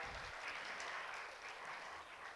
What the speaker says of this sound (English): I think they all deserve a huge round of applause